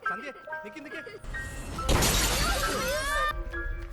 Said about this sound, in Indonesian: mereka berdua melihat atap kaca bandara pecah